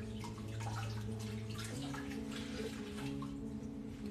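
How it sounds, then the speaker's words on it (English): A marbled scarf being rinsed in filtered water, a soft continuous running and splashing close to the microphone with a low steady hum beneath it. "So I'm just giving the scarf a rinse and some filtered water just to get any"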